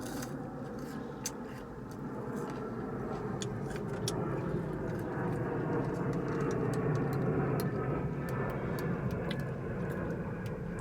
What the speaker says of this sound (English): So you always hear planes going by.